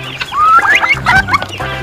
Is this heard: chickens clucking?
yes